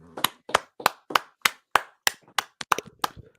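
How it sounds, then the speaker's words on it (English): A guest is welcomed onto a live-stream stage with single sharp claps that come one after another at a steady pace, about a dozen in all, near and distinct with silence between them. "So, clap it up for my boy."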